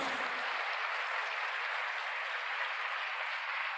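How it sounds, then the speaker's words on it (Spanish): A church congregation applauds steadily during a sermon, a dense, even wash of clapping that holds at a constant level from start to finish with no voices over it. "Un aplauso para él."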